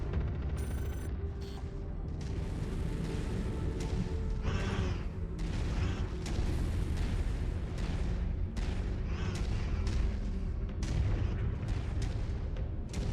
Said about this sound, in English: I'm already shooting him with missiles.